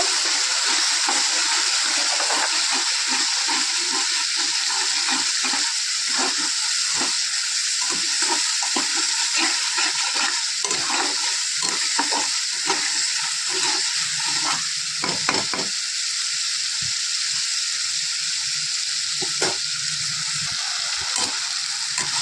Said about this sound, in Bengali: তো দেখো বন্ধুরা, আস্তে আস্তে মশলাটা আমি কষিয়ে নেব।